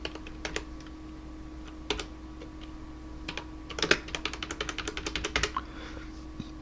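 Typing on a computer keyboard while entering a 32-bit RAM write cheat code, sparse close key clicks, then a quicker run of taps over a faint steady hum.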